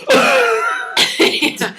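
A voice imitates a harsh, drawn-out cough, followed by several shorter raspy cough bursts in quick succession, loud and close.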